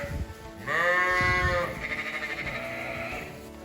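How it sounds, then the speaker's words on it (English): Ewes bleating in a barn, eager for haylage: one loud, close, wavering bleat followed by further overlapping bleats from the flock. "The ewes are very keen to have their haylage."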